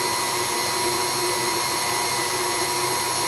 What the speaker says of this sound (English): I'm going to stop the mixer.